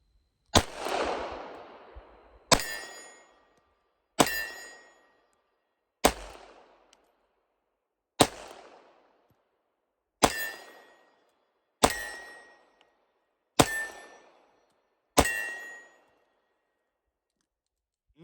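A double-action Czechoslovak vz.38 pistol fires nine single shots at steel targets at a range, each a sharp crack followed by a short ringing decay, spaced about two seconds apart.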